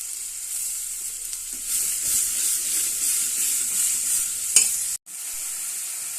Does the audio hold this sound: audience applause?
no